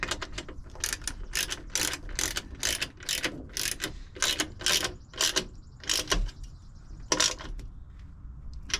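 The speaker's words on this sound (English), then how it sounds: "with our ratchet you can do this with a 10mm boxed end wrench" Ratchet with a 10mm deep socket tightening bolts on a running board for a 2024 Chevrolet Silverado 2500HD: rapid bursts of crisp metallic pawl clicking, close and loud, repeated in several quick strokes with brief pauses between.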